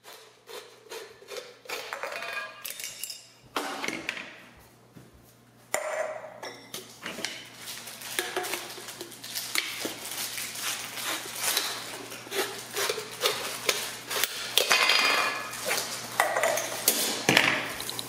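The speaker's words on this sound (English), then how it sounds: "It is necessary to thoroughly clean the cans, but first you need to remove the pop can's top." Tops being removed from aluminium pop cans: repeated sharp metallic clicks, pings and scraping close by, coming in irregular bursts with brief pauses, with no talk.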